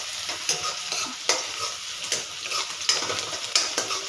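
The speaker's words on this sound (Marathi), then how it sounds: "तर मी ते एक कांदा घेतला आपला, तर तो व्यवस्थित परतून घ्यायचा" Chopped onion sautéing in a pan for dhaba-style garlic spinach, with a steady sizzle and sharp scraping stirs about every second, close and without talk.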